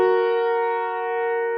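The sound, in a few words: piano playing do and mi together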